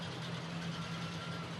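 Ford Ferguson tractor rolling past in a county fair parade, its engine giving a steady low hum and drone throughout, with traffic-like mechanical noise around it.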